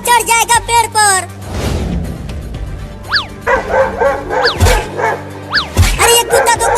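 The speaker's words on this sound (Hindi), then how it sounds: "कुत्ता चढ़ जाएगा पेड़ पर।" A dog barks and yips in a comedy sketch, giving several sharp, close cries in an uneven rhythm. Loud talk and other voices mix in around the barks.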